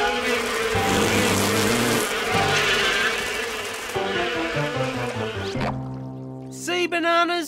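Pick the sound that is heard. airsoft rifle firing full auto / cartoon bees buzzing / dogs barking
cartoon bees buzzing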